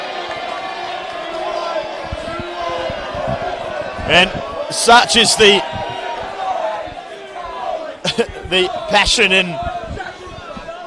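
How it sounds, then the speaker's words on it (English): Football crowd at a State League Division 2 grand final cheering and jeering after a shot goes just wide, with bursts of shouts and whoops rising twice over steady commentary. "There's cheers from one end, Bronx cheers from the other."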